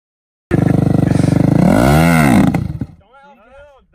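A dirt bike engine revs hard while stuck in sand dunes, a loud sustained roar that climbs and falls in pitch before cutting off, after which faint voices talk.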